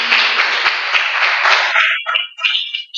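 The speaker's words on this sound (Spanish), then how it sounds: "Denle un aplauso al Señor." A burst of crowd applause at a church service, steady and dense at first, then thinning into scattered claps and fading out.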